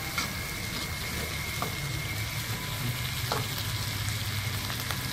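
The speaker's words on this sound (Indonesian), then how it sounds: "Kemudian digoreng dengan bawang goreng tadi dicampur." Squid frying in a pan with sliced red and green chilies and fried shallots, a steady even sizzle that holds throughout, with faint stirring clicks from a utensil against the pan.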